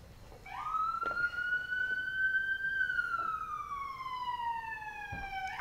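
A police patrol car siren passes on a street with one long wail that rises, holds, then slowly falls as the car goes by. It is loud and close, and nobody speaks.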